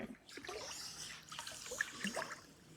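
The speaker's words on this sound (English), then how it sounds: "Rushing algae water" Algae-laden water rushes and trickles in a summer garden, a soft continuous flowing murmur, faint and steady, with small bubbling splashes throughout.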